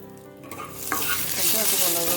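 Small ginger pieces fry with cumin seeds in hot oil for an Odia thali, a close, steady sizzle that swells loudly as they hit the pan.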